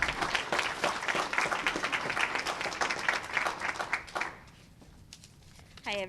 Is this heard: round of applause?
yes